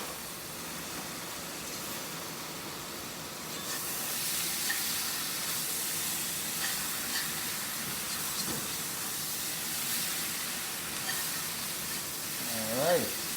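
Shrimp and vegetables sizzle in a stir fry with a loud, steady hiss of steam that swells partway through, with occasional clinks and a short voice-like sound near the end.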